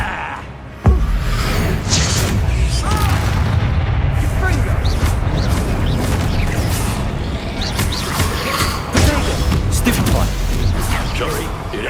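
Repeated Confringo spell blasts in Hogwarts Legacy combat: a loud booming explosion opens a dense, noisy stretch of magical bursts and impacts, with voices shouting over the continuous rumble.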